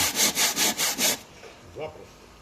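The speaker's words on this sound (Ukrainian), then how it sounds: "Ось так ріжемо газоблок, піноблок" Hand saw cutting an aerated concrete block, five quick rhythmic rasping strokes, close and loud, followed by a pause and a faint scrape.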